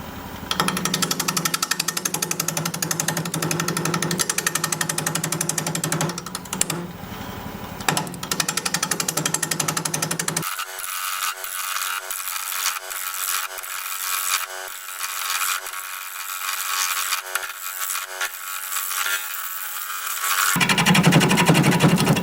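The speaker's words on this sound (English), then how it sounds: "We're gonna be turning at 700 RPM, 5/8 inch bowl gouge, mask and face shield on." A wood lathe spins a root ball at 700 RPM while a 5/8 inch bowl gouge cuts into it, making loud, rapid, chattering rough-cutting noise that continues steadily, with a muffled stretch partway through.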